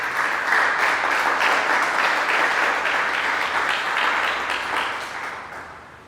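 A church congregation applauds steadily for several seconds, a dense wash of many hands clapping in a large room that tapers off toward the end with no talk over it.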